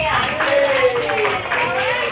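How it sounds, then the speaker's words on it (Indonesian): Students in a math classroom clap for a classmate, a steady patter of hands that runs throughout, with voices and a cheering tone rising over it. "Kasih tepuk tangan buat Fadil."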